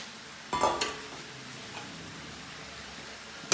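A short scrape of stirring bean sprouts mixed with carrots and beans in a pan, a brief clatter near the start, then a quiet faint sizzle, and a sharp utensil knock at the end.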